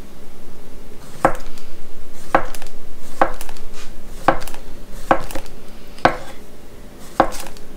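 A very sharp knife chopping salad vegetables into bite-sized pieces on a cutting board, with about seven sharp, distinct knocks at irregular intervals over faint background noise.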